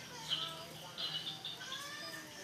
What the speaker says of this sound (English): It really does sound like crickets.